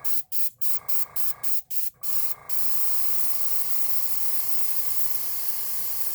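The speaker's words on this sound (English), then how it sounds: "I just hold the airbrush further away." An airbrush spraying alcohol ink gives several short, sharp hiss bursts in quick succession, then settles into one long, steady, close spray hiss.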